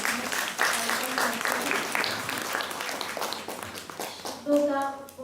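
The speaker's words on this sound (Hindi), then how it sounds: "तो ऐसी आदरणीय दीदी जी का हम एक बार पुनः फिर से जोरदार ताली बजाएंगे।" An audience at an honouring ceremony gives loud applause for Didi, a dense wash of clapping from many hands that carries on steadily, with a voice starting up near the end.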